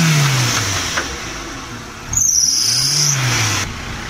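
A car engine runs after starting, a close, rough idle that swells in a slow rev and drops back, with a sharp high squeal partway through and no talking.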